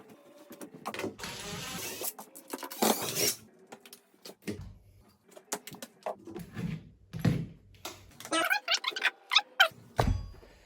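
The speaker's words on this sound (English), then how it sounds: "What I'm gonna do right now is remove this nail, these 2 screws, and the nails here." Nails and screws being pulled from wall paneling, a string of sharp clicks, scrapes and thunks in irregular bursts, close and fairly quiet.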